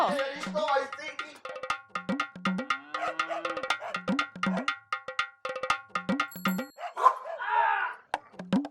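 A dog named Bijli barks over and over in short, sharp, rhythmic yaps, loud and close. Occasional voices and clatter come in between the barks in a village comedy scene.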